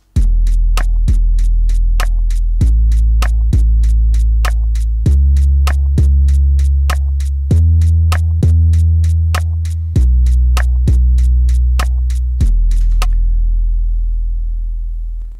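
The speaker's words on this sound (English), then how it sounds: "let's listen to this loop of drums and 808 bass." Drum loop with deep 808 bass: steady kick and snare hits over booming sustained 808 notes that change pitch every bar or so, some notes louder than others, playing alone and ending in a brief fade.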